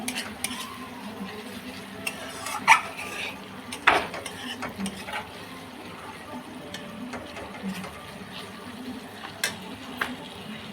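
Ginger, garlic and onion masala frying in a pan while a utensil stirs and scrapes it, giving steady low sizzling with irregular clinks and scrapes, a couple of sharper knocks standing out.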